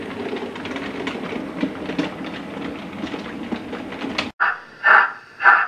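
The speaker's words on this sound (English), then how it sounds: "we have a locomotive coming on shed" A railway locomotive rumbling onto shed, a dense continuous rolling clatter of wheels and engine that cuts off abruptly, followed by a few separate loud bursts of mechanical noise.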